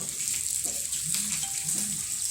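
Bacon frying in a pan, turned over partway through cooking, a steady soft hiss and crackle of fat held at a low level throughout, with faint clinks of a utensil against the pan.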